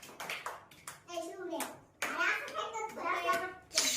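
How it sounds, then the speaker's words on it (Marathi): A group of children claps hands in short bursts during a balance-walking activity, the claps mixed in among lively child and adult speech nearby. "चला छान टाळ्या वाजवा सगळ्यांनी."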